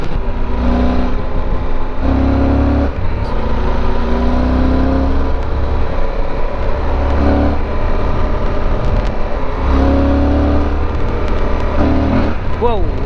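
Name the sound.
Yamaha FJR1300 motorcycle four-cylinder engine revving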